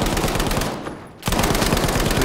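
Rapid automatic gunfire from the shooter game Battlefield V rattles in dense, loud bursts, breaking off for a brief lull before the firing resumes just as hard.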